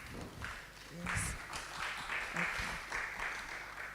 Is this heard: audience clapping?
yes